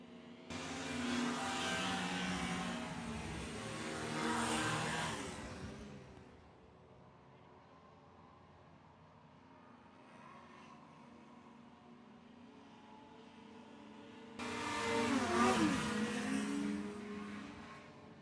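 Formula 1 racing hovercraft rounding the paddock turn on the final lap of a Hovercraft Club of Great Britain race meeting: loud roaring engine passes, fading to a distant hum, then another roaring pass near the end.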